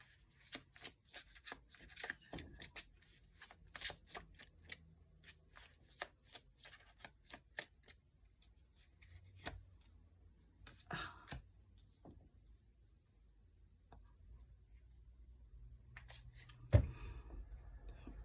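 Tarot cards riffle and slap in quick flurries during shuffling, then softer scattered flicks and slides as individual cards are drawn and laid down, close and quiet.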